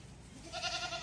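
A goat on a farm lets out one nasal, wavering bleat of moderate loudness at close range, following a brief stretch of low background murmur.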